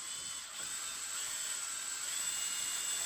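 A power drill runs with a steady, high-pitched mechanical whine, close and continuous, with no talking, while light switch wiring is being done.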